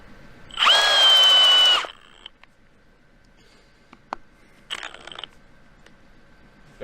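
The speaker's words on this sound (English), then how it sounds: "So now we're ready to actually drill through the posts." A battery drill whines loudly for about a second as it bites into a frozen post in Siberia, then stops abruptly, leaving faint clicks and small knocks.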